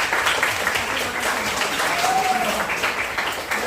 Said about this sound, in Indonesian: Tepuk tangan dulu buat Alvin.